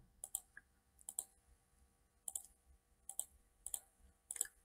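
A computer mouse clicks in short crisp pairs on a Windows PC, several double clicks spaced a second or so apart, quiet and close in an otherwise silent room.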